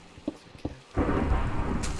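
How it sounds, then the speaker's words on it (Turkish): A sudden crack of thunder in a survival video game bursts in after a couple of soft taps and rolls on as a loud, dense rumble mixed with heavy rain. "Şimşek çaktı korkuyor."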